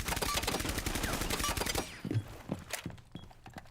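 Rapid automatic gunfire in Rainbow Six Siege, a dense close burst of shots for nearly two seconds, followed by a few scattered heavier thuds and impacts.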